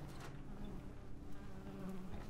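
Steady insect-like buzzing of flies inside the MiSide video game, a continuous low droning hum that holds fairly level throughout with no talking.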